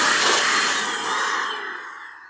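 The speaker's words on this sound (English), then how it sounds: "Maybe a very light dusting out with the data vac real quick." A DataVac electric duster blasts air through a gaming PC case, a loud, steady rushing roar close up that eases off slightly toward the end, with no talking.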